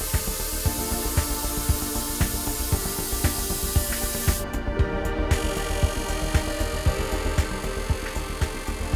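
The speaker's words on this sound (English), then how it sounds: "a bubble jet spray system is used to apply a second coating of solvent onto the wheel design face" A bubble jet spray system applies a solvent coating to the design face of a Rays TE37 forged wheel, producing a continuous broadband hiss marked by regular faint ticking pulses about every half second and a brief drop midway.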